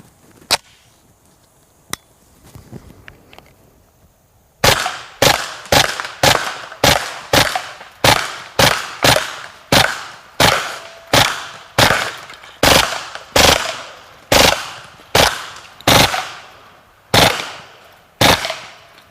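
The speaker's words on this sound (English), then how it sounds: "you can actually hear the difference in the rate of fire between the plus P ammunition and some of the regular ball ammunition versus incendiary" Kriss Vector firing plus P, ball and incendiary ammunition: after a couple of isolated shots, a long series of loud, sharp, evenly spaced shots rings out with echoing tails, close and unmasked by speech.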